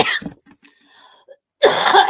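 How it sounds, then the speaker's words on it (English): A person coughs a couple of times at close range, with a quiet gap between, followed by a harsher burst of throat-clearing. "have you lot caught that cough?"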